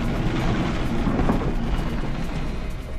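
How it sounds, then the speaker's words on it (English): Hail pelting the fuselage of TACA Flight 110, an airliner caught in a severe storm, forms a dense, steady, roaring wash of impacts that stays loud and even throughout. "You could hear the hail hitting the plane."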